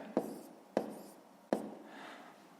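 A pen writes figures on paper while a fifth-grade maths sum is worked out by hand, giving three distinct close scratchy strokes spaced about half a second apart, each fading into soft rubbing, with no speech.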